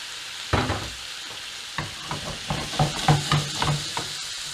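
Onions, mushrooms and peppers fry in a pan, sizzling steadily at close range while a utensil stirs and taps with irregular scraping knocks for several seconds. No one speaks.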